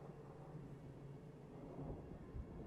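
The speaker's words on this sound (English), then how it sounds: "as you all fall asleep to the sound of raindrops and thunder in the distance" Steady rain with low, distant rumbles of thunder rolling underneath, a continuous soft stormy wash with no voices.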